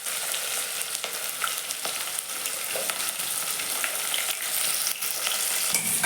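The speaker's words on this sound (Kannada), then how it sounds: "ಈಗ ಎಣ್ಣೆ ಹಾಕಿ ಜೀರಿಗೆ ಸಾಸಿನ ಹಾಕ್ಯಾರಿ ಈಗ ಕರ್ಬೇ ಹಾಕಿದ್ರು ಉಳ್ಳಾಗಡ್ಡೆ ಮೆಣಸಿನ್ಕಾಯಿ ಹಾಕಾಕ್ತಾರೆ" Cumin, mustard seeds, curry leaves, onion and green chili fry in hot oil, giving a loud, dense, continuous sizzle with faint stirring scrapes throughout.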